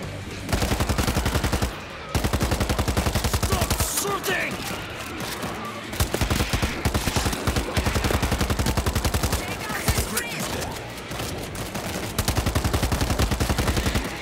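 Rapid automatic gunfire in a Rainbow Six Siege match, dense bursts of shots repeating almost without pause across the whole stretch, loud and close, with brief gaps and mixed game noise; a voice speaks at moments.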